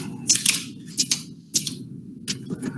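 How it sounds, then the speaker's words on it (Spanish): Typewriter keys clacking in irregular bursts of sharp strikes over an open microphone, fairly close, with low background hum and no talk. "oímos su máquina de escribir por ahí echando punta"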